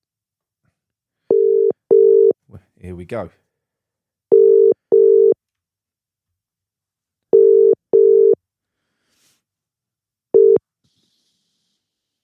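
Repeated electronic ringback tones from an internet phone call, pairs of steady beeps separated by silent gaps, with a brief spoken phrase and a short burst of noise in between before the line connects.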